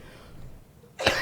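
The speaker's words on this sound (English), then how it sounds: "I'm gonna do a cough." A single sharp cough bursts out near the end, loud and close after a stretch of quiet room tone, during an inspirational talk on resilience.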